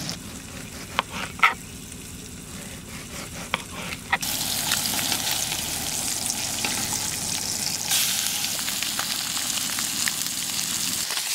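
Seasoned fish fillets with salt and pepper fry in a pan over high heat. After a few quiet clinks, a loud, steady sizzle sets in and holds without talk.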